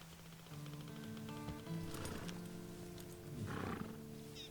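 A horse in the Red Dead Online video game gives a loud snorting whinny, followed by clopping hooves and a second whinny, over a low sustained musical drone.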